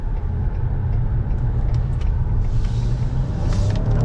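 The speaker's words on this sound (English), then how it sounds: "So initiate a U-turn." A grey unmarked 2015 Ford Explorer Police Interceptor makes a U-turn, its engine and tires producing a steady, loud low rumble from inside the cabin that never lets up. No one speaks.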